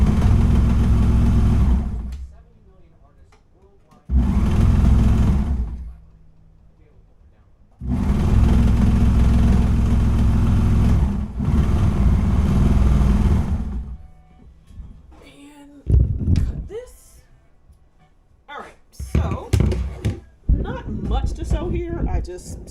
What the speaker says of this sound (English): I just serged off all the seams that we had just sewn